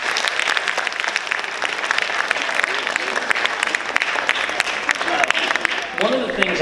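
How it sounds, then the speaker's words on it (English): An audience applauds a student after an early college capstone presentation, dense, sustained clapping filling the room close by, with a voice starting to speak as it fades. "Let's give Dalton another round of applause"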